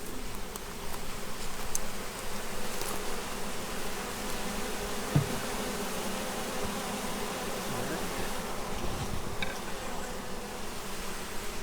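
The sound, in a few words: Italian honey bees buzzing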